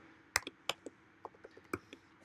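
Sparse, crisp keystrokes on a computer keyboard while an SQL query is typed, about half a dozen distinct clicks at an irregular pace, close and clear.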